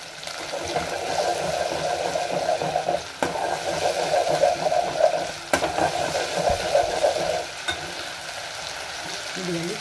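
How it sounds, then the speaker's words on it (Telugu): Marinated chicken tipped into a pan of frying garlic paste sizzles loudly and steadily, with a couple of sharp knocks and the scrape of stirring, and the sizzle settles lower near the end. "ఇప్పుడు ఇందులోకి ముందుగా మనం మ్యారినేట్ చేసి పెట్టుకున్న చికెన్ ఉంది కదా, అదంతా దీంట్లోకి వేసుకోవాలి"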